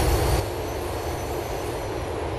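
Rolling rail noise from an LTA Rail J/3 train on the Algonquin Outer Line in Grand Theft Auto IV, a steady dense rumble with a louder burst at the start, then an even, continuous ride.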